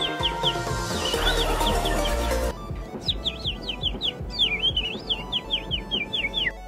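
A voice imitates bird calls with a quick run of high chirps and trills, following a loud burst of music that cuts off abruptly.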